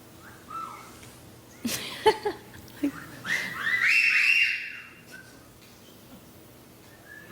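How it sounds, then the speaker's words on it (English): A studio audience at a talk show gives a rising wolf whistle that swells and fades within about a second, after a few scattered shorter whistles and chirps over a murmuring room. "You have to wolf whistle."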